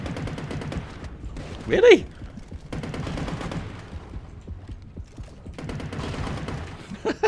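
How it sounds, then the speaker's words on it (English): Rapid automatic gunfire in the underwater shark-hunting game Depth comes in three bursts of fast, evenly spaced shots, and a voice briefly speaks between them. "He's shooting into the walls again like I do."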